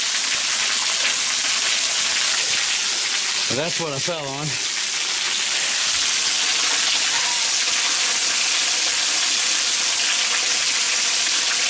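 Waterfall at Buck Hollow Conservation Area on Missouri's Jack's Fork River, heard from behind the falling water: a steady, loud broadband rush that fills the whole clip, with a brief spoken remark partway through.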